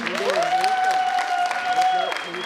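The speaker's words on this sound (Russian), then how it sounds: "Ваши громкие аплодисменты в городе Перми" Applause from a KVN comedy final audience in a hall in Perm, a dense steady clatter lasting the whole moment, with a loud sustained voice-like tone held over the middle of it.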